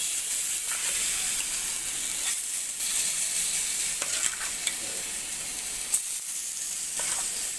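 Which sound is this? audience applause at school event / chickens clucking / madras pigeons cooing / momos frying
momos frying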